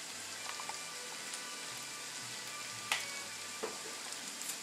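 Tilapia fillets fry quietly in a pan with a soft, steady sizzle and a few sharper pops and crackles spread through the sound, no talking.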